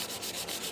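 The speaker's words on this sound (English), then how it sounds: "And I got some light sandpaper here." Light sandpaper rubs rhythmically across metal parts of a 1976 Chicago Coin Cinema pinball mech board, a brief close scratchy back-and-forth hiss with regular strokes and no voices.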